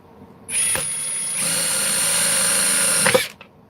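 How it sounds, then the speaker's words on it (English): A driver drill bores into opal, giving a sharp, steady high-pitched whir for about two and a half seconds that starts suddenly and cuts off, with no talking. "At the moment, I'm just using a driver drill."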